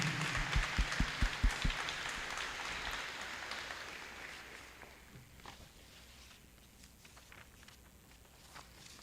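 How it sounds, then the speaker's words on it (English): At a school promotion ceremony, an audience breaks into applause that starts with a few loud, distinct claps, swells into broad clapping, and fades gradually to scattered claps. "if we can give a round of applause to all of us"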